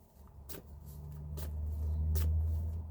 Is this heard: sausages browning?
no